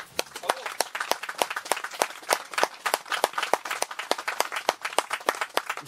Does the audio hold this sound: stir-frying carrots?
no